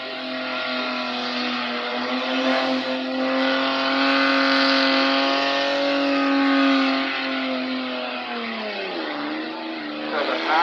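A car does a burnout at Port Pirie, South Australia, its engine held at a loud, sustained high rev with a harsh tone that drops near the end, while people talk faintly in the background.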